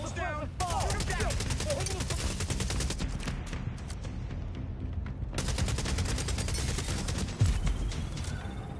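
Video game gunfire crackling in repeated bursts and fusillades over a busy in-game soundscape, with horse sounds faintly mixed in and a voice talking over it.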